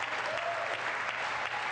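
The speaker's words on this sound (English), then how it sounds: "Hear that applause from the left?" Applause from lawmakers in the chamber of Congress during the President's address, a dense steady wash of many hands clapping at moderate distance, sustained without a break.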